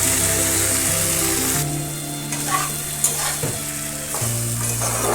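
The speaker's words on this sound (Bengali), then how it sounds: "মশলাটা হয়ে এসেছে, এবার আমি ভেজে রাখা কুমড়োগুলো দিয়ে দেব।" Fried ash gourd pieces sizzle steadily in a spice mix with grated ginger, a continuous close frying hiss broken by a few soft stirring knocks, with a faint background tone throughout.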